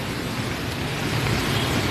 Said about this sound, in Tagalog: Maulan pa rin dito.